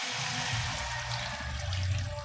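Water pours into a pot of cooking vegetables with string beans, giving a short, steady splashing trickle close up over a low rumble.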